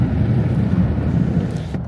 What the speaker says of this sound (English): I think that's too much noise from the wind, so I'll roll up my windows